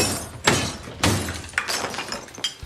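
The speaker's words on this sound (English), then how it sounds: "he stands in front of a mirror and proceeds to smash it with his head 3 times, shattering it" A mirror in a film scene is smashed three times by a man's head, giving sharp glass shatters and thuds at roughly half-second intervals, followed by scattered tinkling fragments, loud and close with no voices.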